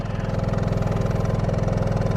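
An Onan Cummins QG 2500i LP propane RV generator runs at a steady, even idle, a low throbbing hum heard from behind the rig with its exhaust routed below the bumper, continuous and fairly quiet.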